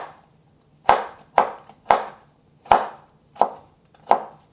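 A knife chops steadily through a large carrot on a board, cutting it into matchsticks: six crisp, close thunks spaced roughly half a second apart, each with a short bright decay, alone without talk.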